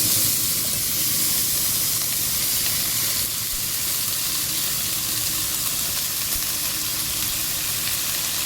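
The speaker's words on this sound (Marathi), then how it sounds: "चला तर भाज्या टाकून घेऊया।" Mixed vegetables including val beans, peas and chickpeas drop into a hot pan for a Konkani bhogi bhaji, giving a steady, loud, close sizzle and hiss that holds evenly throughout with no talking.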